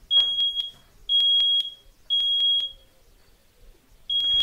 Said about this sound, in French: ce que vous entendez, c'est l'alarme de la maison qui se déclenche normalement quand il y a de la fumée